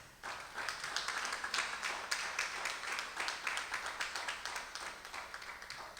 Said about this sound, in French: Nous demandons à notre chère assistance d'applaudir, s'il vous plaît, chaudement la présence du Seigneur dans la salle.